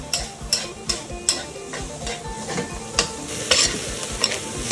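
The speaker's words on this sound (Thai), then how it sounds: "เสียงข้าวกระทะสุดยอดเลย" Food sizzles loudly in a hot wok while a spatula scrapes and clanks in a rough, repeated rhythm.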